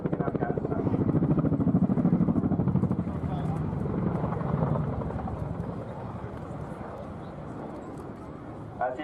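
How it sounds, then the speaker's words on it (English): An RAF Chinook twin-rotor helicopter flying an airshow display at Torbay, its heavy rhythmic rotor thump loud and steady at first, then gradually fading as it moves away, with a commentator talking over it. "As the aircraft moves away to the left, JT is just building up the speed"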